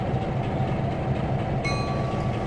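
A train rolls along in the Trainz 2022 simulator with a steady rumbling run, joined partway through by a thin sustained metallic ring.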